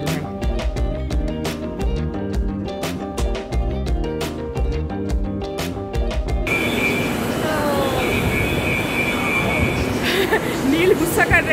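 A Kolkata metro train crossing the Ganga river, first a loud rhythmic clatter of wheels over track joints, then a broad steady rumble and roar with squealing tones, as people chatter nearby.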